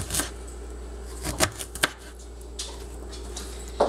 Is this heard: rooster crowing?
no